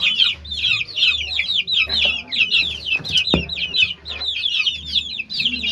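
Chickens cluck continuously in a busy chorus, with a louder squawk midway and a low hum underneath.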